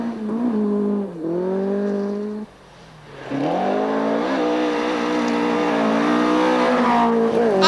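Mark I Ford Escort rally car engine revving hard on a stage route, rising and falling through gear changes with a brief dip as it lifts off, then a loud sustained pull accelerating away close by.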